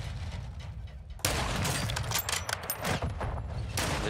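Rapid bursts of video game gunfire in Call of Duty: Modern Warfare II erupt after a quiet start, sharp repeated shots crackling in quick succession at close range.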